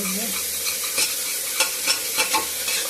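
Ingredients for Gobindobhog rice khichuri sauté in a pan with a constant bright sizzle, while a spoon scrapes and stirs in short bursts about every half second. No voices are heard.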